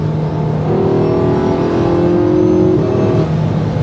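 A car with a constantly recharging battery accelerates hard, its loud, close drive tone climbing and holding steady for a few seconds.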